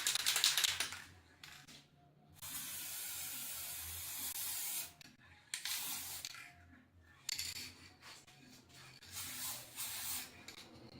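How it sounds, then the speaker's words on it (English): Bursts of hissing spray from a spray gun coating a custom part, several loud sprays lasting one to three seconds with short quiet gaps between them. "We might be able to go ahead and spray it sooner"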